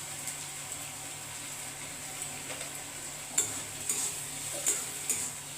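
Masala paste with prawns being stir-fried in a pan, a steady soft sizzle broken by several sharp scraping stirs of a spoon against the metal in the second half.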